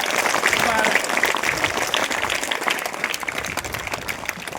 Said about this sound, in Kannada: ಅದಕ್ಕೋಸ್ಕರ ನೀವು ಜೋರಾಗಿ ಚಪ್ಪಾಳೆ ತಟ್ಟೋದ್ರಿಂದ ಆ ಮಗುಗೆ